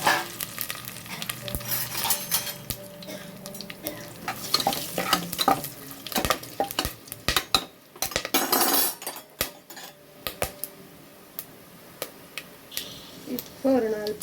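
Whole spices such as cinnamon, pepper and cloves fry in hot oil for prawn biryani, giving a steady sizzle with frequent stirring scrapes and clinks of a spoon against the pan, while someone talks over it.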